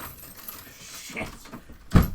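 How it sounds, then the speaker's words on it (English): Car keys jangle nearby in short, light rattles, followed by a louder thump at the end; no one speaks. "He's getting his car keys."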